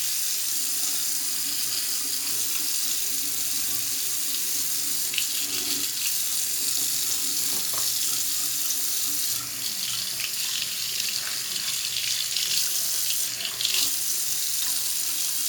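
A faucet runs steadily into a sink as hands are washed, a continuous broadband hiss of flowing water lasting throughout with small splashy variations and no talking.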